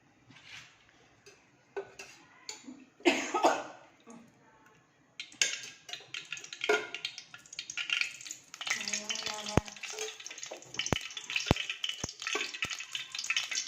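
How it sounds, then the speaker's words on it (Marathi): Onions hit hot oil in a pan on the stove, starting with a few scrapes and clinks before a steady hiss of frying builds and continues, punctuated near the end by several sharp utensil taps against the pan. "त्यात आपण आता तेल घालून कांदे फोडणीला देऊन"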